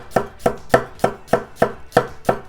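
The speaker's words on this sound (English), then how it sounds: "All I'm going to do is slice that up." Garlic cloves being sliced with a knife on a cutting board, a rapid even series of about eight crisp, close knocks at a steady rhythm.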